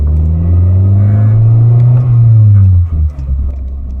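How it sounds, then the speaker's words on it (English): A car engine gives a loud, low rumble that swells briefly as the gas pedal is tapped, then settles back and dips toward idle. "let's give it a nice little love tap on the gas here"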